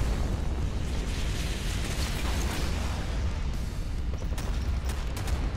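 Missile explosions in the naval combat game Modern Warships form a dense, continuous rumble of booms and bursts, with a few sharper cracks near the end, moderately loud and without speech.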